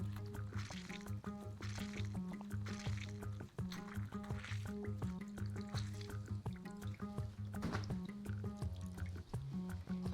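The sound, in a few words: lemon juice being squeezed and dripping in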